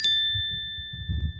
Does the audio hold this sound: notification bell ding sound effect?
yes